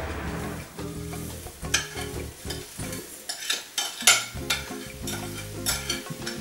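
Strawberry jam cooking in a pot, with a spoon stirring and scraping against it and soft bubbling sizzle underneath, close and moderately loud, accompanied by a steady tonal hum.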